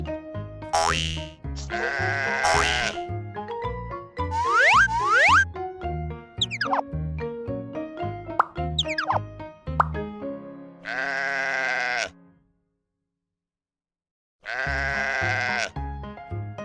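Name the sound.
sheep bleating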